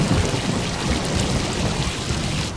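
Heavy rain pours down steadily with deep rumbles of thunder rolling underneath, a dense, loud and continuous storm wash with no voices.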